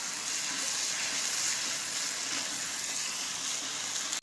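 Chicken white karahi frying in a pan with ground cumin, dried coriander and white pepper, giving a steady, close hiss and sizzle that runs unbroken for the whole stretch with no voices.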